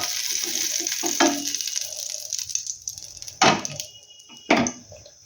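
Kebabs frying in a mix of butter and oil, a steady broadband sizzle with a few louder crackling bursts and utensil scrapes.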